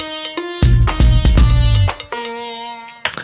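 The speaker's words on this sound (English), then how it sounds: "So the sitar sounds like this." A sitar plays a short melody within a K-pop track, with twangy plucked notes over deep bass hits, loud and close, with no voices.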